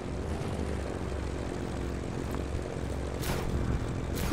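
Propeller plane engine in the video game Just Cause 3, a steady droning roar held at a constant pitch, with brief whooshing surges near the end.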